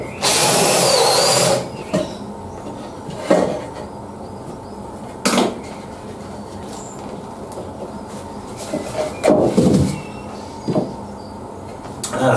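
An electric drill whines in several short bursts, boring into wood with pauses between each hole; one longer burst opens the sequence.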